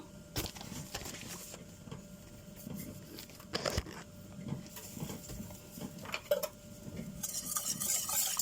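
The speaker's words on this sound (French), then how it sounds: "On mélange." A milk, melted butter and cornstarch mixture for a potato and ground-meat gratin being stirred in a bowl before cooking, giving a steady scraping, clinking swirl with a few sharper taps of the utensil.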